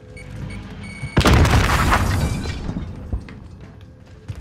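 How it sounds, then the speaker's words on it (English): A grenade blows up in Call of Duty: Modern Warfare with one sudden loud boom and crackling debris that slowly fades, followed by scattered smaller thuds. "Grenade out!"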